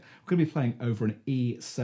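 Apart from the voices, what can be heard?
None of the usual background noises is heard.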